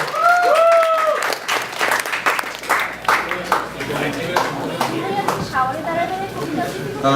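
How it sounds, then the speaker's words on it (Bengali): Audience applause at a 2013 Bijoy Dibosh (Victory Day) celebration, just before a poetry recitation, a dense patter of claps filling the room while someone speaks over it. "হাততালি"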